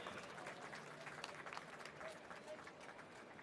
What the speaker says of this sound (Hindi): दर्शकों से अनुरोध है, जोरदार तालियों से इस पल को अविस्मरणीय बनाएं।